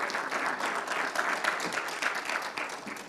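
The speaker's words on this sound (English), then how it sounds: "Please clap for them." An audience at a health conference panel applauds for a panelist, a steady dense patter of many hands clapping at moderate volume for a few seconds.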